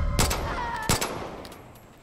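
Gunfire in the Far Cry 5 video game: two sharp, loud shots about two-thirds of a second apart, each with a brief ringing tail, over a steady game background with no talk.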